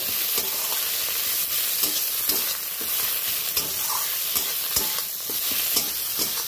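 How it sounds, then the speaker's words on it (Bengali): Ginger-garlic paste fries in hot oil with a steady bright sizzle, punctuated by regular scraping and stirring knocks against the pan. "এবার খুব ভালো করে ভেজে নিতে হবে। আদা রসুনের গন্ধটা যতক্ষণ না যাচ্ছে আমি ততক্ষণ ভেজে নেব।"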